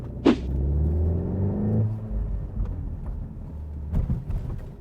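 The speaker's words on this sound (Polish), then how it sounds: "inaczej już załączył się wydech, inaczej brzmi, już słychać teraz." A Volkswagen T-Roc R in race mode rumbles through its exhaust. A deep, steady engine drone swells briefly before settling to a low, rough burble, with no talking.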